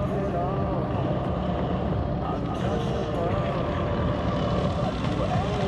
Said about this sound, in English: B-25 taxiing back in